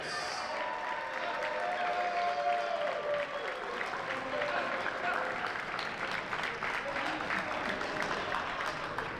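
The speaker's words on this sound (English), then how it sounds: "Let's give one more round of applause for all of these outstanding student athletes." A crowd at a Keene State men's college basketball game against New Jersey City claps in steady, sustained applause that fills the gym, with an announcer's voice carrying over it.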